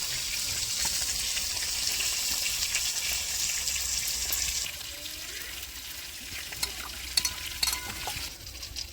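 Koi fish frying in hot oil give a steady, close sizzle that eases off partway through, joined by a few light clinks and scrapes of the pan.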